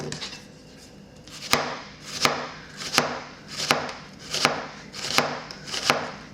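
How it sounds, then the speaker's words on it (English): A knife slices an onion into strips on a cutting board, about eight crisp, evenly spaced chops with a clear knock on each stroke, close and alone with no voices. "So I just like to cut my onion in strips like this"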